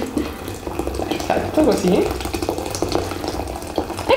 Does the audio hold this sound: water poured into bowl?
yes